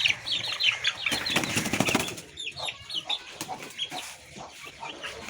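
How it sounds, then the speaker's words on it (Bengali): Young chickens cluck and flap their wings close by, with a burst of wing beating followed by scattered chirps and cheeps in a farmyard. "এখন আমি আমার এই মুরগির বাচ্চাগুলোর কাছে যাই।"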